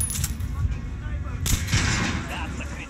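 Gunfire in the Metro Last Light video game, a burst of booming shots with dense low rumble and sharp cracks around a second and a half in, loud and continuous over the whole stretch.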